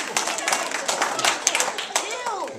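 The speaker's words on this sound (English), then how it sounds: "Everyone, this is a test. Please clap a little bit." Light, scattered clapping from a small audience at an environmental puppet show, a soft patter of hands with no clear rhythm running through the short moment, with faint voices beneath.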